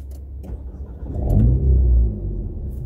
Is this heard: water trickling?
no